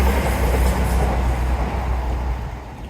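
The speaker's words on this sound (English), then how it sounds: "Oh, train." A train passes close by with a loud, continuous rumble and rattle of wheels on track that fades slightly toward the end, with no talking.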